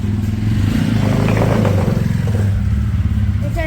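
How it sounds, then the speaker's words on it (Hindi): A motorbike is ridden up onto a raised spot, its engine rumbling loudly and steadily with clattering and scraping near the mic, easing off toward the end. "पापा चलाने लग गया बाइक"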